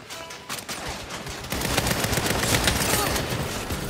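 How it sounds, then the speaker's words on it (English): Gunfire from a firefight in the Saints Row video game, with snipers shooting from an upper floor: dense, rapid shots that build into a loud, continuous volley after a sparser start, with no voices. "There's snipers on the upper floor. I should snipe them back."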